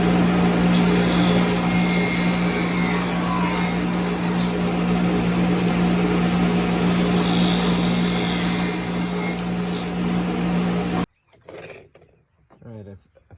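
A saw cuts wooden handrails to length with a loud, sustained, even buzz for about eleven seconds, then cuts off abruptly, followed by a short stretch of quiet talking.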